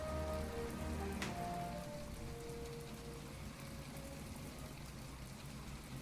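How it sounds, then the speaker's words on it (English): Rain pours steadily in the video game My Time at Portia, a dense, even hiss of falling drops that holds throughout with no voices over it. "I'm waiting out here in the rain."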